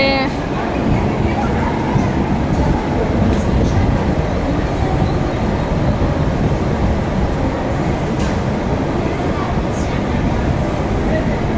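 A Mumbai local train runs with a loud, continuous rumble and rattle of wheels and carriages, heard from on board with a constant wash of crowd noise.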